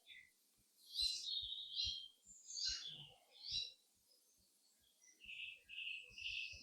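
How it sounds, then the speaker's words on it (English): Several birds sing bright, high chirping phrases in bursts, with soft rhythmic ticks and a faint low murmur beneath in an otherwise quiet setting. "there was quite a beautiful array of birdsong"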